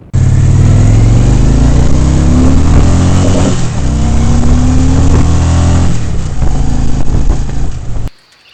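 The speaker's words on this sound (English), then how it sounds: "the roar of the engine at full throttle as you power out and work through the gears is really addictive" A Victory Vision motorcycle roaring at full throttle, its engine note rising through the gears, loud, close and continuous before cutting off abruptly at the end.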